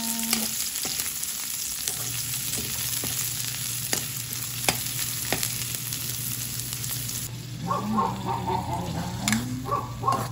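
Garlic and onion sautéing in a pan for a giniling menudo-style dish, a steady close sizzle with scattered stirring scrapes and a low background hum, brief faint voice.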